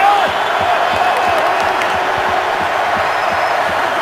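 Dense, loud roar of a packed NFL stadium crowd at the Steelers home game against the Browns, a constant wall of cheering and yelling with no break.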